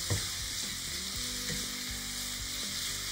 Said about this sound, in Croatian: Pa da dodamo u meso i luk da se lagano dinsa.